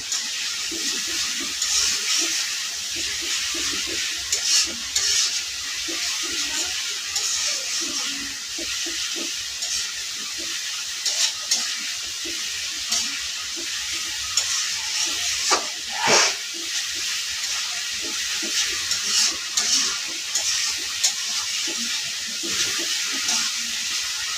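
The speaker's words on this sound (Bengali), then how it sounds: "মশলাটা ভালো দিয়ে কষায় নিতেছি।" Spice paste sizzling and hissing steadily in a hot pan while being worked and stirred for a fish curry, with occasional soft scrapes and clinks over a constant frying hiss.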